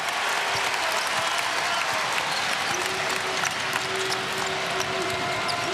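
A packed arena crowd at a college basketball game between George Mason and Kansas roars and applauds after a slam dunk, a dense, steady wall of cheering that holds loud and unbroken throughout, with no clear voices rising above it.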